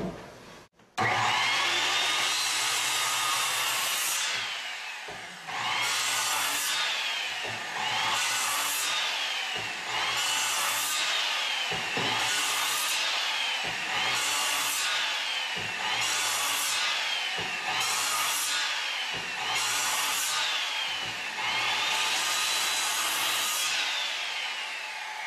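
A power saw makes a row of repeated cuts into a wooden workpiece, spaced about a quarter inch apart, with about ten loud, even whining bursts each rising and falling, separated by brief pauses.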